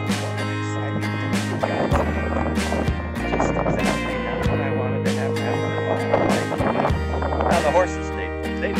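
A herd of horses moves about outdoors in the rain, hooves clopping in irregular bursts nearby, with someone talking over the activity.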